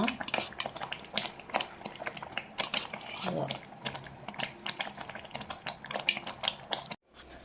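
A spoon stirs coconut barfi mixture with ghee in a pan, giving rapid, irregular clinks and scrapes, close and moderately loud, ending abruptly.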